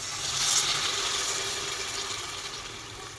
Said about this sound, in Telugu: సరిపడంత చింతపండు పులుసుని పోసుకోవాలి